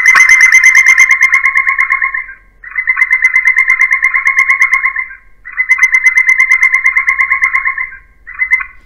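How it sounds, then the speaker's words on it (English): An electronic fox caller plays a woodpecker distress call: loud, rapid, pulsing shrill squeals repeated in four bursts with short gaps, close and alone. "So woodpecker distress is number one."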